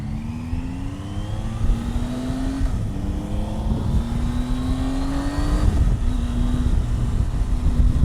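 A 2018 Triumph Tiger 800 XRt motorcycle engine revs up through the gears while riding, each rising pitch climbing then dropping at the shifts, loud and close with wind rush underneath.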